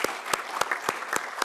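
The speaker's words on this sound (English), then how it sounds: "Let's once again give a big round loud of applause." At a plenary session of a CSI IT conference, an audience gives a round of applause, heard as a brief, close flurry of distinct, fairly regular claps with no talking.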